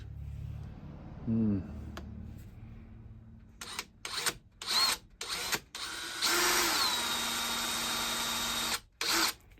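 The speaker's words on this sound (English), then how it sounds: "These are American DeWalt drills with a little starter tip on the end of them." An American DeWalt drill fitted with a small starter tip whirs in short bursts on a moo switch, then settles into a longer, loud continuous run before stopping, with a brief final burst.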